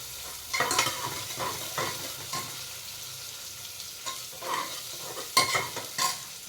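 Onion frying in a pan for pav bhaji, with tomato being added, gives a steady soft sizzle broken by repeated scraping stir strokes, close and moderately loud, with no voices.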